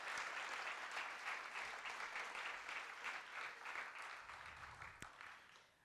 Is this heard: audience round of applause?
yes